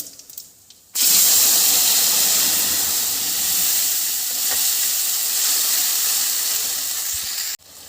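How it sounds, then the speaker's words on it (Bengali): Spice paste hits hot oil with whole cumin and dried red chillies, setting off a sudden loud, close sizzle that holds as a steady hiss for several seconds before cutting off. "গোটা জিরে আর এই শুকনো লঙ্কা ছেড়ে দিয়ে দিলাম এবার যে মশলাটা বানিয়ে রেখেছি সেই মশলাটা দিয়ে দিলাম"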